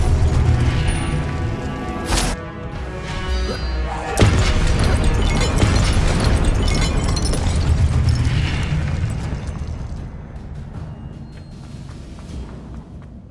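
Confringo spell explosion in Hogwarts Legacy on PS5, with loud crashing booms and bursts amid busy combat clatter, building to a strong blast partway through before the din gradually fades.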